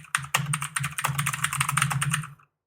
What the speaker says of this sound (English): Stop typing while you talk.